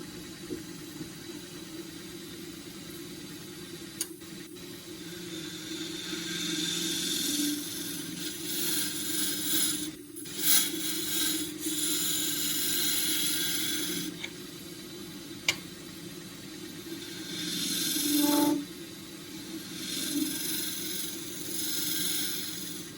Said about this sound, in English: up on the end grain, around this with a 3/4 inch scraper